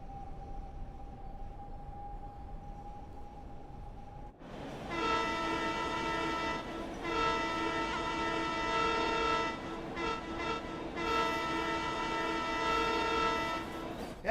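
In the Train Sim World 6 game, a train horn sounds in long, loud, harmonic-rich blasts with a couple of brief breaks. A faint steady tone and quiet rumble come before it, and nobody speaks.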